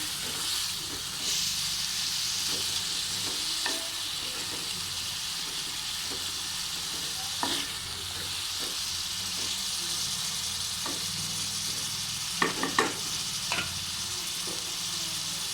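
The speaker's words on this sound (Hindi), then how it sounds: "अच्छे से मिक्स कर लेना है। और 5 मिनट तक इसको फ्राई करना है।" Potato and eggplant curry fries in a pan, a continuous even sizzle and hiss with occasional scrapes and knocks from stirring, close up and steady.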